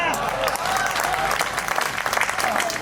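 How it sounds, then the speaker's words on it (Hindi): A whole assembly hall at a poetry gathering bursts into applause, a short burst of crowd clapping with a few voices and cheers rising through it. "तालियां पूरे सदन की मिलकर बजे"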